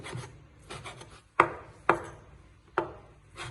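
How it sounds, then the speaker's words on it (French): A knife chops drained spinach on a cutting board in three sharp, close thuds, spaced unevenly among softer rubbing and scraping strokes, with no voices. "Maintenant, on va les hacher en gros."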